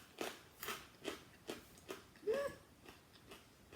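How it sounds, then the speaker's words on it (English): Crispy wasabi-coated peanuts being chewed up close, giving a series of quiet, regular crunches about every half second, with no talking. "I'm just going to have one of these little wasabi peanuts. They're all crispy and crunchy and yummy."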